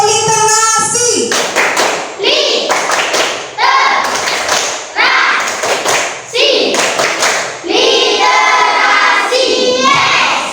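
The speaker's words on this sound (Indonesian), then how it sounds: "Kita tepuk literasi dulu." A primary school class performs a rhythmic literacy clap chant, children clapping in unison in patterned bursts with loud thuds, their voices chanting along between and over the claps.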